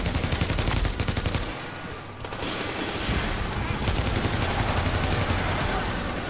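Heavy gunfire from Tom Clancy's The Division fills the whole clip: rapid, continuous automatic fire, loud and close, with only a brief dip before it resumes at full intensity.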